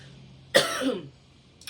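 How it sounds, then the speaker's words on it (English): A single harsh cough up close, sharp and raspy, fading out quickly in an otherwise quiet room. "So if you just bear with me so I can get through these coughing spells."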